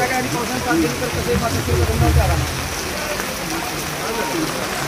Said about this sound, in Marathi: भरपूर पाऊस लागलाय आणि छत्री आणली नाही कोणी